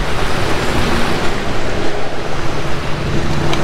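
Waves and water wash on the Ohio River, a steady broadband surge with wind buffeting the microphone, continuous and fairly loud with no talking.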